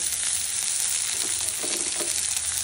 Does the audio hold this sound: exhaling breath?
no